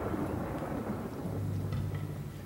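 A steady thunderstorm rumbles in Luigi's Mansion 3, with a constant wash of rain and low thunder filling the whole stretch, no voices over it.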